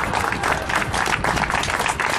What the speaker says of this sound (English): How about a big round of applause for our county commissioner right here?